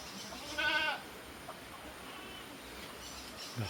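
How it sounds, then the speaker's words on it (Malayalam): A single short bleat from a Malabari goat rings out close by, followed by quiet background noise and a faint second sound near the end. "നല്ലൊരു മലബാരി ആട്"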